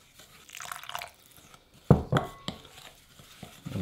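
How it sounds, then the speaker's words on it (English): Warm water pours into a tiger bread topping paste in a bowl, with a few close, wet splashes and drips in quick succession, then soft stirring sounds. "Now this, again, is some warm water. We're gonna add in a little bit at a time."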